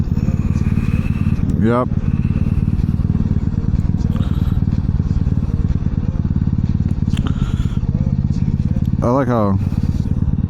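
Honda Ruckus moped engine runs steadily while riding, a loud constant low drone filling the whole stretch, with wind rush and brief voices talking over it.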